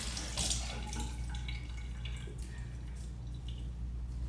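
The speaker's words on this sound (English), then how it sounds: "I'm gonna go ahead and wet my face" Tap water running into a bathroom sink while a face is wetted by hand, a steady close stream with splashes and drips, with no talk over it.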